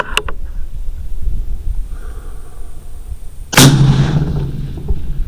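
A suppressed rifle shot fired on a precision rifle range lands as a single loud, sharp blast partway through, with a long rumbling decay, after a stretch of quiet outdoor background with a couple of faint earlier clicks.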